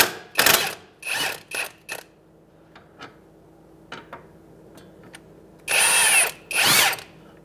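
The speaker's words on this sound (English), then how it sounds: "We're going to use an impact and a deep 21 millimeter socket." Impact wrench with a deep 21 mm socket loosening a jam nut on the inner tie rod of a 2007-2015 Mazda CX-9, heard as several short loud rattling bursts with quiet gaps and small clicks between them.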